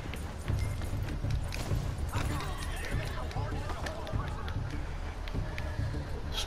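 Galloping horse hooves in the Red Dead Redemption 2 video game, a steady rapid clip-clop running continuously under dense game ambience and background noise, with no clear break.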